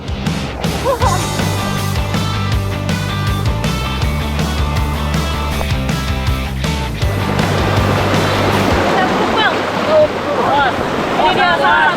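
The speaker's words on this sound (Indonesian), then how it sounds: "Sungainya benar-benar sangat deras" A strong, fast river current rushes over rocks, a loud continuous roar and wash under music that gives way to churning water, with a voice speaking over it.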